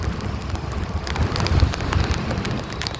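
Light drizzle falling with wind near a town street, a soft patter with scattered drop ticks and a low gusty rumble, steady and fairly close, with no one talking.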